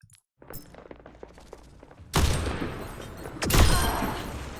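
Gunfire in Overwatch 2 during a Silver-rank Illari match: two loud, sharp blasts about 1.5 seconds apart, each with a long, noisy tail, following a stretch of quieter, scattered in-game clicks and sounds.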